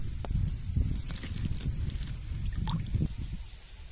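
Bitter gourds washed by hand in water, with close, continuous sloshing, dripping and small splashes that rise and fall over a few seconds.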